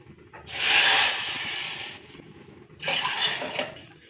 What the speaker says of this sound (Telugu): బెల్లాన్ని మనం చక్కగా కరిగించుకోవాలి